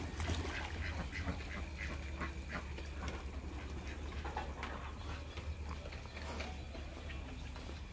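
A flock of village ducks quacks at a farm pond, their calls overlapping in a steady chatter over a low rumble of outdoor background noise, moderately near.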